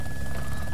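A helicopter in the video game DayZ Epoch hums with a steady droning rotor and engine tone, constant and unbroken in a very short burst, damaged state noted.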